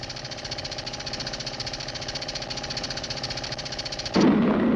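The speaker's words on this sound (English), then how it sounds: "I'm going to increase the speed of the engine by stepping up the pressure" A steam engine runs with a rapid, even chugging beat, fairly loud and close, then near the end a sudden louder rush of noise bursts in as the boiler pressure is raised.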